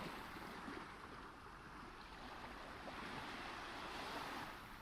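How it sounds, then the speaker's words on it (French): Sea waves break and wash in a continuous, fairly faint rushing surf, with gentle swells in loudness and a bit of wind noise, no voices. "Pourquoi la mer fait-elle des vagues?"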